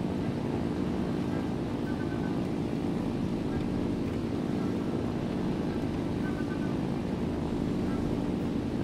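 A propeller plane flying in the IL-2 flight sim video game drones with a steady, dense engine roar that holds at one level throughout, with no breaks or other sounds standing out.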